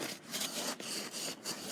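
A long screwdriver scrapes and chips at built-up ice in quick, rough back-and-forth strokes, close and fairly loud, with no voices.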